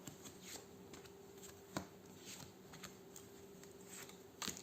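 Tarot cards shuffled by hand before a cross-shaped spread, a steady soft riffling patter running throughout with a couple of sharper slaps, close and quiet, no talking.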